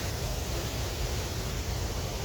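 Constant breathy wind noise rushes past the microphone, a dense steady hiss with low rumble and no voices.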